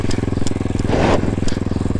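Motorcycle engine running steadily during a riding lesson, with a rising rev and gear shift near the middle as the throttle is released, then a return to a steady rhythmic thrum; close and loud.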